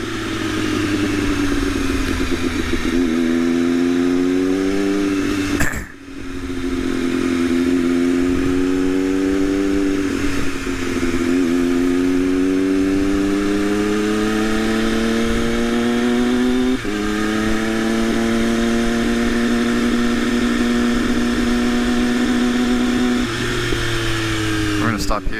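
A Triumph-engined Moto2 motorcycle revs repeatedly in loud, rising sweeps with rhythmic climbs and drops in pitch, a brief cut around the sixth second, and a steady idle hum between pulls.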